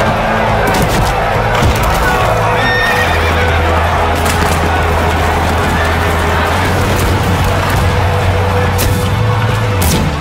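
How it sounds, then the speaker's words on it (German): Horses whinny and hooves clip-clop in a loud Western film scene, with dense ambient noise and music throughout, a sustained low tone, and brief crackling bursts that may be distant gunfire. "Hol dein Pferd, Barclay. Wir reiten nach Dos Palmas"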